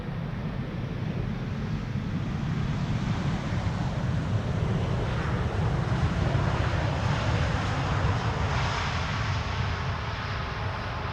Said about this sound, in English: 777-200, arriving from Rio de Janeiro.